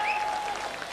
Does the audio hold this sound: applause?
yes